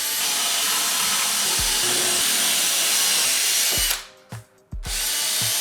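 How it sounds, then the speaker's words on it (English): A drill with a 1/2 inch Forstner bit bores into workbench wood, a loud continuous whine that stops briefly, then restarts with a short burst. "This is the bit I use. This is a Forstner bit."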